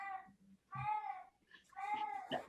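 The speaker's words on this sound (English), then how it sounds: "And that would be Dan's cat that has shown up right on time." A cat meows three times, drawn-out, tonal cries spaced about a second apart, fairly close and moderately loud, with faint background rustle between them.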